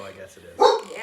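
A dog barks in the background behind people talking. There is a brief louder bark or yelp burst partway through, over continuous speech.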